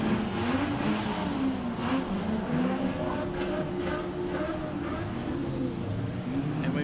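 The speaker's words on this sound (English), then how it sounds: "Sean Jenkins here in the main straight has spun the car" Street stock race cars circle a dirt speedway track at Mildura during a national title heat, engines droning and revving in a continuous mid-distance roar with rising and falling pitch, while an announcer's voice carries faintly under the noise.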